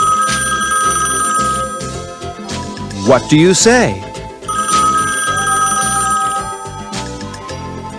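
A telephone bell rings in repeated bursts of bright trilling tone, clear and fairly loud, with a short stretch of voices talking in the middle.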